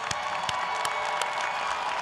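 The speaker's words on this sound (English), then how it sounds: "Let's give a round of applause to the parents and family members in the audience." Steady applause from a crowd at a commencement ceremony, dense clapping filling the whole stretch with a few sharper claps standing out.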